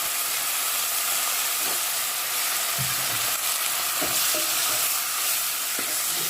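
Chopped tomato frying in a hot pan of oil after mustard seeds have popped, giving a steady close sizzle and hiss with scattered stirring knocks and scrapes.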